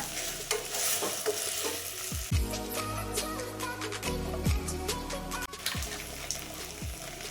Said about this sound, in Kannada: ಎಲ್ಲ ತರಕಾರಿಗಳು ಒಂದು ಸ್ವಲ್ಪ ಎಣ್ಣೆಯಲ್ಲಿ ಫ್ರೈ ಆಗಬೇಕಲ್ವ ಚೆನ್ನಾಗಿ